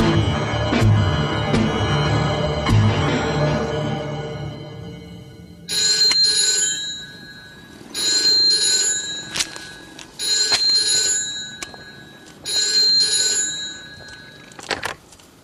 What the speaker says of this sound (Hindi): वैदेही, वैदेही, रघु का फोन है, आओ।